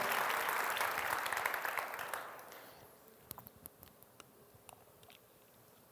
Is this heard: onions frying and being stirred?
no